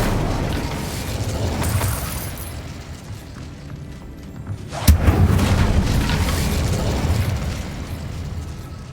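A fiery Incendio spell blast in the Hogwarts Legacy video game lands as a single sharp boom midway, rising out of a steady, rumbling game soundscape and trailing off into continued low roar.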